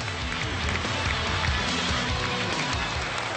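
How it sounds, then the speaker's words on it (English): Spectators at a South Carolina vs. Ole Miss college football game give a sustained ovation, a dense wash of applause and crowd noise with rumbling underneath, heard from a distance at a steady level. "Nice ovation from the crowd"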